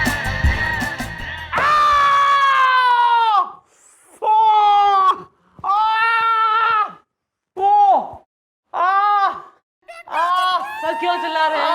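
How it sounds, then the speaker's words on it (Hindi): A man with a sprain in a comedy episode screams in pain, a string of loud drawn-out wails and shorter cries separated by brief silences. "सर क्यों चिल्ला रहे हैं?"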